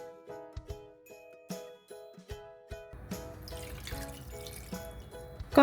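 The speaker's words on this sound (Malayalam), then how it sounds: "ഇനി ഇതിലേക്ക് 1/2 കപ്പ് തേങ്ങാപ്പാൽ ചേർത്ത് കൊടുക്കാം." Half a cup of second-press coconut milk goes into a simmering beef stew: a few light clinks and drips, then a steady close splashing pour with bubbling.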